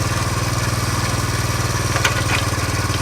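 A 1983 Honda CT110 motorcycle engine running steadily with a fast, even low putter, close and loud, with a couple of brief clicks partway through as gears are shifted.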